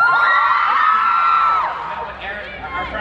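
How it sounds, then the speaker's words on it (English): Audience at a VidCon 2018 interview cheering and whooping loudly, a crowd roar that fades after about a second and a half into scattered shouts, people talking over it. "It could be a random name and you guys would still cheer."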